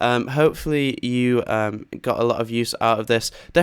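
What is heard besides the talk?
None of the usual background noises is heard.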